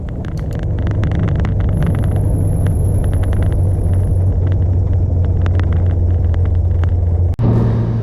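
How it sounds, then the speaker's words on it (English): A Cessna with a 520 engine and a three-blade propeller in flight during slow-flight and stall practice, a loud, steady low engine drone and rumble filling the cabin, with a brief dropout near the end. "This Cessna with the 520 up front and a 3-blade prop"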